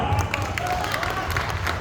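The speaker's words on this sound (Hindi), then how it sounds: "मेरे को तालियां हो जाए यार" Audience applause fills a hall at a mushaira, a dense, continuous patter of many hands clapping at once, fairly loud and sustained with some cheering mixed in.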